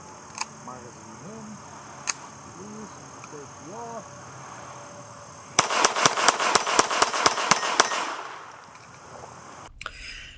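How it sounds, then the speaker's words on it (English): Bolt of a Ruger MK IV Lite .22LR pistol being pulled back and released, a few sharp metallic clicks near the start, then a dense run of rapid mechanical snaps midway, over quiet room background. "when you charge this pistol, you get a hold of the ears on the back of the bolt handle and you just pull it back"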